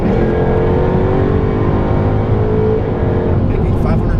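Supercharged 5-liter V8 of a 2016 Jaguar F-Type R AWD roars loud and steady through a launch start, engine note climbing in pitch with a supercharger whine on top.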